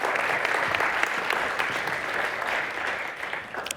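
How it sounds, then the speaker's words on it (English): A seminar audience on AI in creative practices claps steadily and warmly, a dense, even applause with no voices over it, easing off slightly toward the end. "A warm applause, please."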